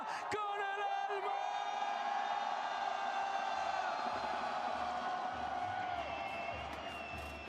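A large crowd at a Valorant Masters Santiago final watch party roars and whoops in a sustained wave of yelling and cheering, loud at first and slowly easing off near the end.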